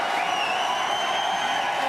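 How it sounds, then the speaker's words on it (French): A studio audience applauds steadily at a French television show, a dense and sustained clapping that stays even throughout. "c'est pas moi qu'il faut applaudir"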